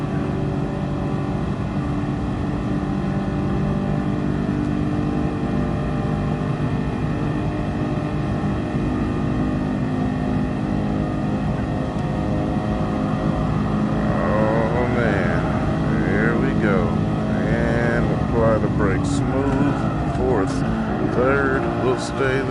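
A Black Series car engine drones steadily from inside the cabin on the Nürburgring, then revs up toward 7,300 rpm with rising, warbling engine tones in the later seconds.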